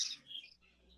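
Budgie in a breeding aviary of exhibition budgerigars giving a short burst of high chirps, faint and close, fading into quiet background hum.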